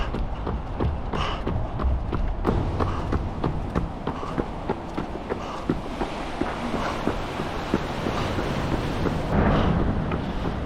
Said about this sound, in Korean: 파도 소리가 굉장히 시원합니다.